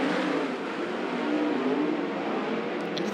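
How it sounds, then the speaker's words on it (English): A pack of 360 sprint cars roars off the green flag at the start of an eight-lap heat race on a speedway, the engines blending into a steady, distant-sounding wall of revving noise with no voices over it. "8-lap heat race for the 360 sprint cars."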